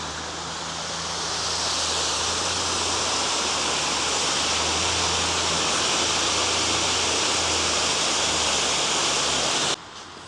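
A river rushes past close by on a walk along an old railway line near Threlkeld and Keswick, a loud steady broadband roar that continues unbroken with no voices.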